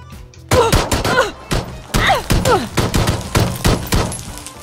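Rapid bursts of gunfire from a PUBG match crack out in clustered volleys, loud and close, with short pauses between strings of shots and no talking over them.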